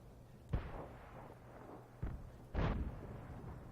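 Tank cannon shots in a tank combat video game, several muffled booming reports with rumbling tails at irregular intervals, one louder and closer blast standing out, heard without talk.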